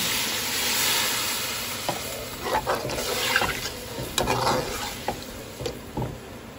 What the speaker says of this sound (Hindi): बस अब मैं पानी इसमें डालने लगी